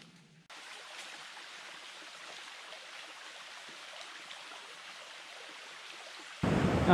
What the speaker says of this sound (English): I've made it to the top of my first waterfall of the trip, Hunt Fish Falls